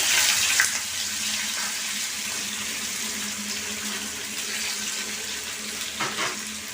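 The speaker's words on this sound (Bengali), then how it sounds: "সাদা তেল দিয়ে আমি পনিরটাকে ভেজে নেব।" Paneer pieces sizzle in hot white oil, a steady broadband hiss with crackling spatters, close and fairly loud throughout with no talking.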